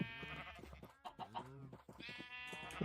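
Several sheep bleat in a Minecraft farm scene during livestock breeding, the wavering calls repeating closely over about three seconds with little pause.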